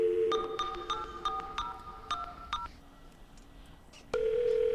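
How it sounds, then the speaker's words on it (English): Phone dialing in the Space Station 13 game, a quick series of electronic keypad beeps followed by a steady tone, clear and close with no talking. "let me get on the phone here and talk some shit"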